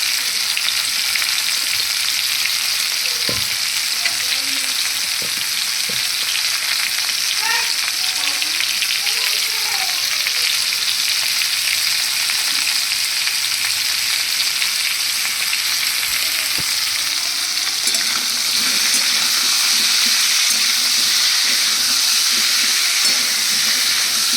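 Pumpkin frying in a pan for a pumpkin and coconut chhokka, a steady loud sizzle running continuously throughout with a few faint clinks of stirring.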